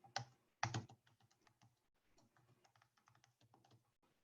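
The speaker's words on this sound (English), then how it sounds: "when I actually type an email here" Typing on a computer keyboard while building a website, with two louder bursts of keystrokes at the start followed by a steady run of quieter, close taps.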